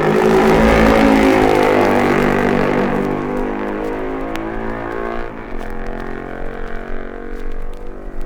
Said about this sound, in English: Lap 5 at Quarterbridge, and Bob Anderson, leading on the roads